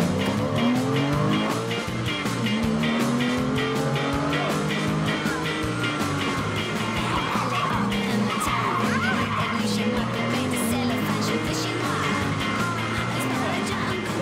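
A car driven fast around a racing circuit, engine roaring continuously and tires squealing and skidding through the turns, loud and sustained throughout with occasional voices underneath.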